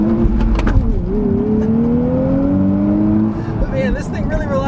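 A 2023 Nissan Z sports car accelerates hard, its engine note climbing steadily in pitch over a rough, loud exhaust rumble and recorded from inside the cabin, with the revs dropping near the end.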